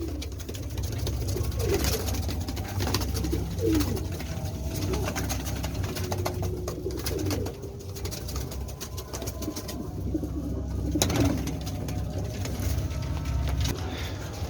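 Pigeons of several breeds, kept in a breeder's loft, coo steadily and overlap one another, close by, with a low hum of distant traffic underneath.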